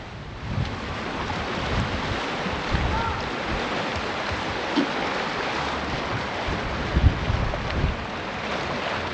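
Steady wind buffeting the microphone on the Devon coast near Meadfoot Beach, Torquay, with a broad rushing roar and occasional low gusts, like a blustery seaside walk.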